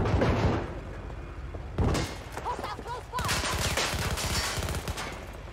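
Gunfire in the shooter game Battlefield 2042 comes in several rapid bursts of shots at moderate loudness, with a brief voice speaking between them.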